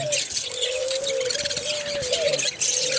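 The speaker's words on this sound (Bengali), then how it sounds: "এখানে লাভবার্ড পাখি আছে" Lovebirds call inside a bird shop, with repeated shrill chirps and chatter over a constant busy background of other caged birds, fairly close and continuous.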